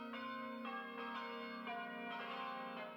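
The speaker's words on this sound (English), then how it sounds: "The tune comes from the bell tower of the Chapel of All Faiths, Driggers Hall." Tuned chimes ring a melody from the bell tower of the Chapel of All Faiths at Driggers Hall, ABAC, a nightly tribute to nurses; sustained overlapping tones with a steady low hum, moderately distant and unbroken by talk.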